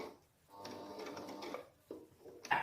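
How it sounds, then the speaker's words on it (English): Sewing machine stitching clown costume pieces, a soft steady mechanical whir for about a second, pausing, then a short second burst with a small click, faint and close, no talk. "I'm just going to sew the 4 bits together first to make it easier to work with"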